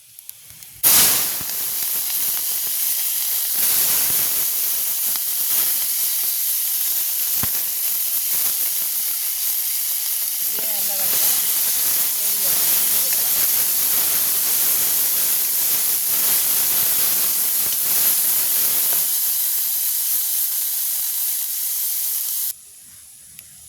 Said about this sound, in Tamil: இப்போ எங்களுக்கு அங்கால வெங்காயம் மிளகாய் எல்லாம் நல்லபடியாக பொரியுது அடுப்பில்.